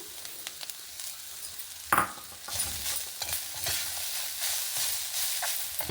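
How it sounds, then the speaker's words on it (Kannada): Grated coconut roasting in a pan for temple-style pumpkin sambar, a quiet dry sizzle under repeated scraping strokes of a spatula stirring it through, with one louder knock near the start. "ಈಗ ಅದೇ ಬಾಣಲೆಗೆ ನೋಡಿ ತೆಂಗಿನಕಾಯಿ 1 ಕಪ್ ಹಾಯ್ಕೊಂತ ಇದ್ದೆ. ಇದೆಲ್ಲ ಸರಿ ಹುರ್ಕೊಂಬ"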